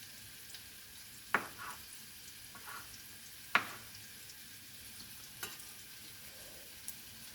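Onion frying in a pan while cooking a wild mushroom meal outdoors, a soft steady sizzle with a few sharp clicks and knocks from stirring.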